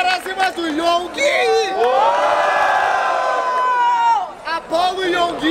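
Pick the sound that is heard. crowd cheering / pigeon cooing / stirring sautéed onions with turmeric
crowd cheering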